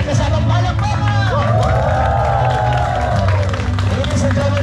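Festive Christmas crowd at Las Casas Filipinas shouting and applauding together, a dense, loud, steady roar of cheers and claps with a few high voices carrying above the mass.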